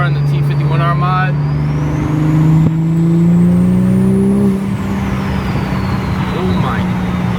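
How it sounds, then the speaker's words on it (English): A Toyota MK5 Supra running a T51R tune drives past close by, its engine note climbing and then falling away as it downshifts, loud and steady from start to finish. "I'm gonna do a little drive-bys back and forth, get you a little outside POV of the car in the T51R mod."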